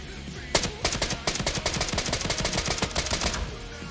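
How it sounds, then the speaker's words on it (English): Rapid gunfire from a higher-caliber gun in an extraction shooter video game, a steady burst of roughly sixteen loud, close shots fired in quick even rhythm for about three seconds, with no talking over it. "16 rounds from a gun that's like higher caliber."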